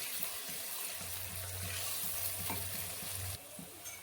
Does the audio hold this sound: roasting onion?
yes